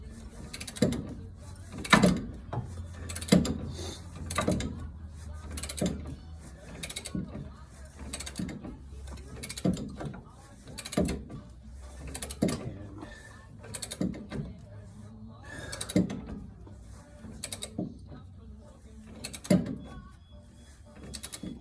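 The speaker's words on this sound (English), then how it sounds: "it's that ratchet head that likes to reverse itself on a whim" Ratchet wrench with a reversing head working on a car's wheel well, rapid close clicking bursts repeating in uneven runs, with shuffling handling noise and occasional quiet talk.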